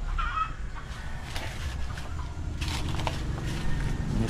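Wild chickens cluck outdoors, soft and a little distant, scattered calls sitting over a low rumbling background for a few seconds.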